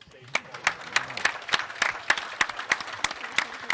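An audience at an artistic pool tournament claps in sharp, fairly sparse beats that ring out over a quiet hall.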